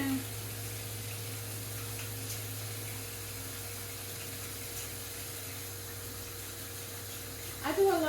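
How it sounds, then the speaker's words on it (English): Water runs steadily at a kitchen sink while hands are washed, a soft continuous flow with a brief splash near the end. "wash my hands."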